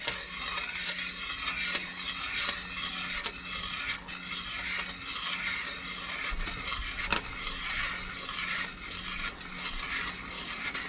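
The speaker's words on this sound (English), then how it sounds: "so we're gonna slowly add the rest of the sugar." Steady scraping and stirring in a pot as sugar is slowly added to boiling wild rose petal jelly, a continuous rasping swirl with faint sizzling, no voices.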